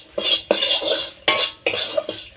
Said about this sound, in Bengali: মশলাটা কয়েক সেকেন্ড এইভাবে কষিয়ে নিচ্ছি